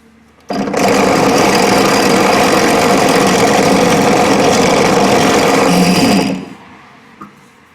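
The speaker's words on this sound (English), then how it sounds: "I'm going to drill a hole right the way through." A power drill bores a pilot hole straight through a small part for a homemade tent rope tensioner, starting abruptly and running at a loud, steady high-speed whine for about six seconds before winding down.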